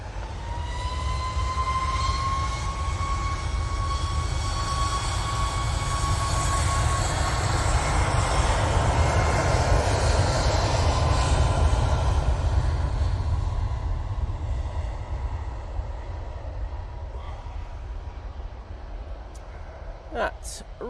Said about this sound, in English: That Ryanair 737 MAX 8 is off to the capital of Germany, Berlin